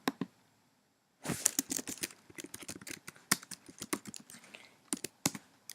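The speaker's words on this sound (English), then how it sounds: "So let me see if I could type that in." After a brief pause, fingers tap rapidly and unevenly across a computer keyboard, with close, crisp key clicks arriving in quick bursts.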